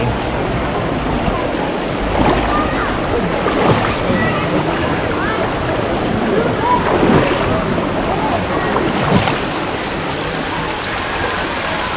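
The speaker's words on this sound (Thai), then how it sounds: "ดูน้ำไหล" Steady rushing water at a waterfall fills the scene, a broad continuous roar with faint voices now and then underneath.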